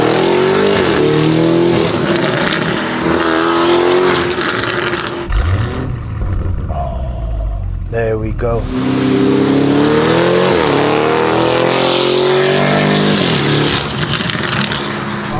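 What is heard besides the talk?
Lamborghini Urus widebody loud exhaust after flicking switch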